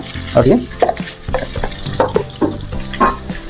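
Eggs frying with turmeric in a pan for an Odia egg curry, with steady sizzling and repeated scraping stir strokes close by.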